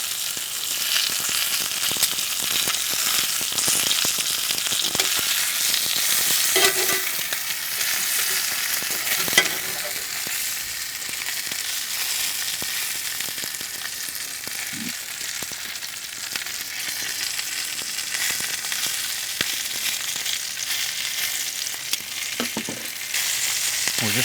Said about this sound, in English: I'm gonna go ahead and render some of this fat